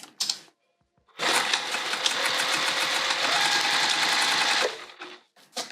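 A domestic sewing machine runs in one steady continuous burst of about three and a half seconds, stitching back and forth at the corner of a boxed tote bag. It sounds close and loud, with quiet pauses before and after.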